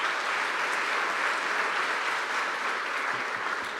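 An audience at the Northwest Snow and Avalanche Workshop applauds, a loud, steady wash of clapping from a large crowd that holds evenly throughout.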